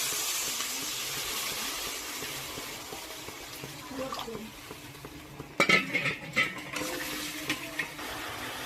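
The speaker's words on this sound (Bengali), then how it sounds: "মশলা কষানো হয়ে গেছে, এবার জল দিয়ে দেবো" Water is poured into hot fried spice masala for a rohu fish curry, producing a sudden hissing, bubbling splash after a quieter stretch of low sizzling and utensil clatter.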